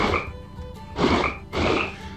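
Frogs croak in the Tasty Blue video game, three loud, rough bursts arriving in a steady rhythm over a constant background hum of game audio, with no talking.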